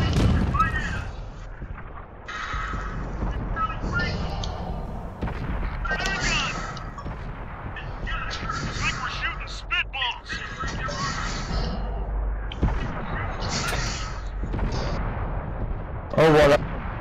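Artillery shells fire and land in World of Tanks, with booms and impacts scattered through a dense, steady battle din, and a player's voice talking over the top.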